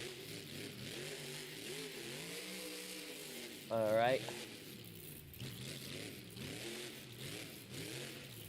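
Vendetta monster truck at a Monster Jam stadium show in Indianapolis, its engine growling and surging with a loud burst of revving midway, under an announcer's steady commentary.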